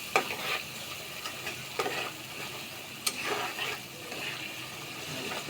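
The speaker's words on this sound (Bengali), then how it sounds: "এভাবে আগেই ভেজে নিয়েছিলাম, সুন্দর করে ভাজছি" Fish sizzles in a pan as a spatula stirs it, with a soft steady frying hiss broken by several sharp metallic clinks and scrapes, close up, with no talking.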